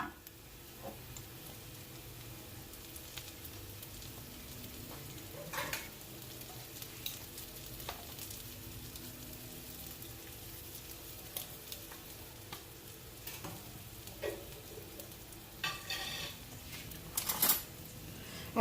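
Chopped garlic fries lightly in a little leftover oil in a pan for a chicken and corn pizza topping, giving a faint, steady low sizzle with occasional soft clicks and utensil taps throughout.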